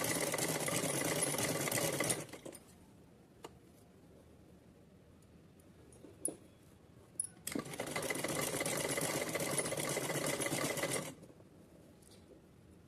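A sewing machine stitches fabric for a small doll dress in two steady, buzzing runs, one short and one longer, with quiet handling noises and a few clicks in the gap between.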